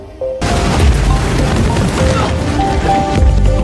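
A sudden loud explosive boom kicks off a sustained roar of blasts and gunfire-like crackle that rumbles on at high volume.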